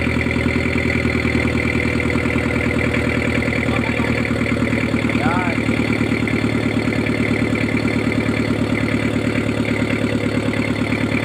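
A newly built engine idles steadily and loudly for several seconds, a continuous mechanical chugging hum with a rapid rhythmic knock.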